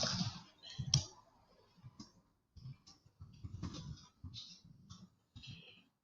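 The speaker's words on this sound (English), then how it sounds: "which I will now type into the comments" Someone typing an email address into a comment box on a keyboard, a quiet, close string of irregular key clicks in short bursts with brief pauses.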